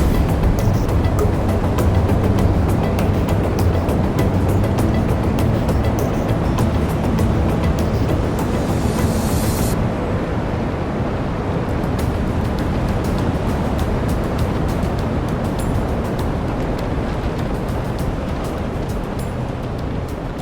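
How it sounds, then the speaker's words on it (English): Loud wind buffeting on an exposed mountain ridgeline in Ecuador, a continuous broadband roar that stays steady and heavy for the full stretch with no other clear sounds. "The wind was so loud that I had to mute most of this footage"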